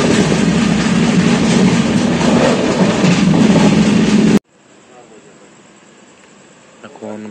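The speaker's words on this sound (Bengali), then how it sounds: "এই হলো ট্রেন।" A passenger train at Gooty Junction rumbles loudly and steadily nearby, then the sound cuts abruptly to a much quieter, distant hum with faint clicks near the end.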